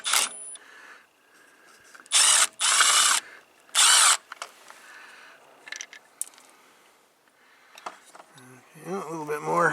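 A ratchet wrench clicks in several short, sharp bursts while working on a Kubota Z412 zero-turn mower during a transmission fluid change, with quiet pauses between turns and someone talking at times.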